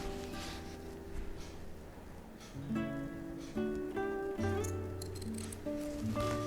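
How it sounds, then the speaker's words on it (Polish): Scissors cut white felt at close range, with repeated snipping strokes over a steady background of sustained musical tones and no talking. "Także z białego filcu jeszcze wycinam"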